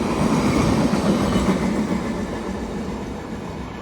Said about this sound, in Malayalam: വിശാഖപട്ടണം കൊല്ലം എക്സ്പ്രസ് വീക്കിലി വണ്ടിയാണ് കേട്ടോ